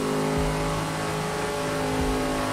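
A racing car in a sim racing video game is on a top speed run, its engine holding a steady high drone with brief gear-change dips, loud and continuous.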